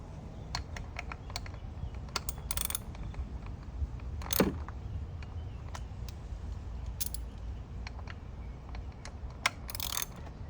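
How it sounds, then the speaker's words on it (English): A ratchet with a 10mm socket clicks rapidly in short bursts while removing coil cover screws on a 2020 Hyundai Elantra, close and crisp, with a few metallic tool clinks between runs. "Now this is where we're gonna use our 10mm socket. We're gonna remove each screw from the coil cover."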